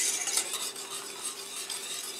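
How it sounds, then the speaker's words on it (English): A metal utensil scrapes and stirs a gluten-free white sauce roux in a metal pot, a continuous close, rasping metal-on-metal swirl with light sizzling underneath and no speech. "And then just stir. And I'm sorry about the metal on metal music here."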